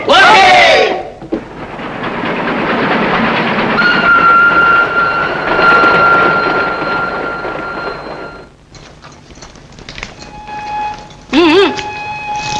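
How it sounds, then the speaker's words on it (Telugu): A pilgrimage special train rolls past loudly with a steady rumbling clatter and some tonal whine for several seconds, then the noise fades as brief voices come through near the end. "ఈ పూర్ణయాత్ర స్పెషల్ ట్రైన్ నీ కోసం ఆగదురా"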